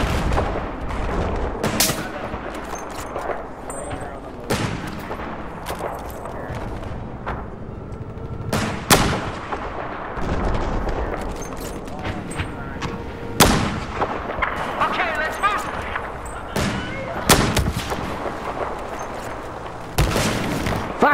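Heavy gunfire and booming shots from Battlefield 4 crack out in irregular bursts, loud and close, some sharp single reports and some rapid volleys, with a voice briefly heard among them.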